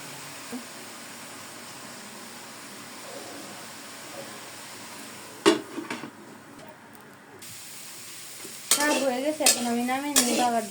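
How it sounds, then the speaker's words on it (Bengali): Leafy greens cook in a pan with a continuous low sizzle, punctuated by a few stirring scrapes midway. A person's voice speaks near the end. "এখন আমি শাক রান্না করবো"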